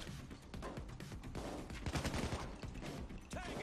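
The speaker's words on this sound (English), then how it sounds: "Oh, they're shooting right next to me." Gunfire from the Payday 2 video game sounds near the player as rapid, overlapping shots and bursts. The sharp cracks are fairly quiet and keep going throughout.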